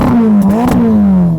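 Ferrari Roma engine revving while parked: a loud, close V8 growl rising and dipping in pitch through quick blips, with rough clattering texture and no talk.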